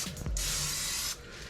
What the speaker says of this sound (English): I'm gonna spray this with some spray butter.